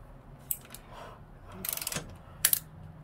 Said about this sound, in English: So I was just tightening this down